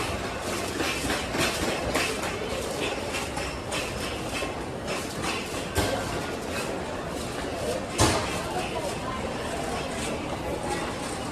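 A train rumbles and rattles steadily through an underground station in Japan, with clattering wheels and occasional sharp clanks, while voices murmur in the busy background.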